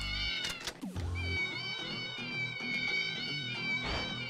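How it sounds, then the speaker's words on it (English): Cat meowing over and over in the video game Yakuza Zero, clear repeated meows layered over game music and effects, moderately loud and continuous with no talk. "all you can hear is meow meow meow meow meow meow meow meow meow meow"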